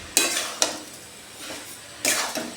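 A spoon scrapes around a kadai of melting sugar and grated coconut, with several distinct, close stirring strokes over a soft sizzle.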